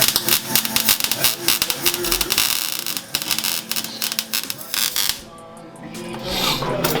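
A welder joins an exhaust pipe on a diesel truck with a loud, close, crackling buzz of rapid irregular pulses for about five seconds. The arc then cuts out, leaving quieter hiss and clatter.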